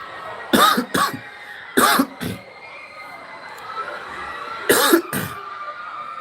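Three short bursts of coughing, two or three coughs each, spaced a second or two apart over a quiet background.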